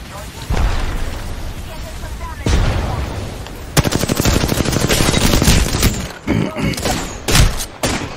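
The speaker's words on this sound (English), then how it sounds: "Tossing grenade" Rapid bursts of video game gunfire with a heavy grenade blast, loud and close, while players talk excitedly over the shooting.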